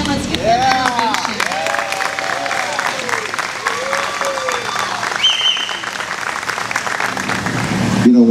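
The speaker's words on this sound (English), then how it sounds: "let's give them a round of applause" An audience gives students who built an airplane steady applause, with clapping and cheers over a murmur of crowd voices, lasting several seconds.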